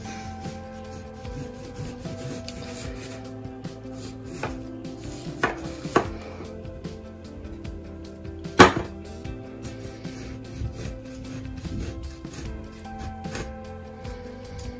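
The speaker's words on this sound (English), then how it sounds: "Now I'm cutting the onion" A knife cutting an onion on a board makes irregular, close chopping taps and light scraping, with one sharper knock partway through.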